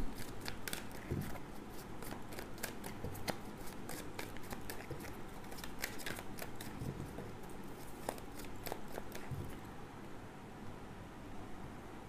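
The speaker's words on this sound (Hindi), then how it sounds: "इस डेक को मैं करूँगी रैंडमली टू पार्ट्स में डिवाइड" Tarot cards being split and shuffled by hand, giving a quiet run of crisp slaps and riffling flicks, close to the microphone and faint overall.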